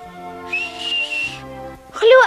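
A person whistles a sustained, wavering high tone in short phrases over a soft tonal background, close and clear, before a voice begins.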